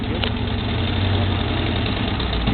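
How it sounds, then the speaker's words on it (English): A vehicle engine idles steadily and close by with a low, even rumble throughout, about to ford a creek; no distinct start-up crank is evident. "Here we go, starting the engine."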